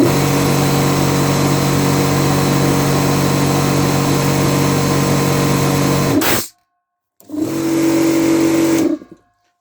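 Newly wired air compressor building tank pressure, a loud steady motor drone that cuts out, stays silent for a moment, then restarts briefly with a humming tone before stopping again.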